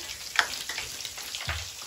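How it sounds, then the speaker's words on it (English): Bath crackles fizzing in bathwater, a soft continuous crackle and popping with scattered tiny snaps, close and fairly quiet. "The popping, crackling bath time."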